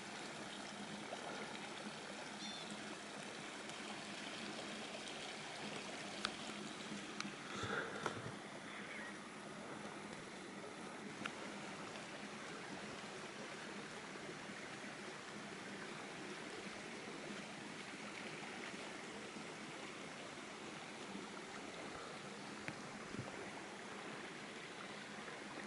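A mountain creek beside a campsite in the Sawtooth Mountains, Idaho, flows with a steady, soft rushing and trickling of water, continuous and fairly quiet, with no voices.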